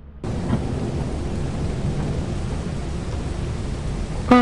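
Steady stormy rain noise with low rumble from a thunderstorm in the video game Lethal Company, a continuous loud wash that starts abruptly and holds unchanged, with a brief sharp blip at the end.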